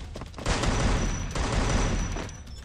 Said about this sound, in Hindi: कोई बंदा गन यूज कर रहा है मेरे को, गन चला रहा है किसी ने